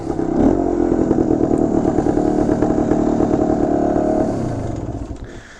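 A 1970 Yamaha DT1 250 Enduro two-stroke motorcycle engine runs close and loud, a buzzy revving drone that holds steady and then fades as it winds down at the end.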